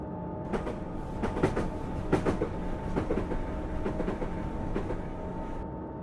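A Canadian freight train on the Stevens Pass line in Train Simulator 2015 rolls along with a steady low rumble and a repeating clickety-clack of wheels over rail joints, with no talking.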